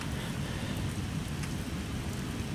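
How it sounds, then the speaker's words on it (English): Heavy rain in a train simulator on the Frankfurt U-Bahn line U1 with a U4 car, a dense, steady hiss and patter that stays constant and fairly loud throughout, with a low rumble underneath. "this must be pretty powerful rain if it's able to phase through the ceiling"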